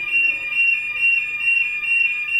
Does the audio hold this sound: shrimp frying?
no